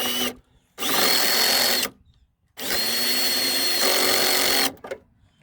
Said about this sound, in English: I'm just using a little drill with a little bit on it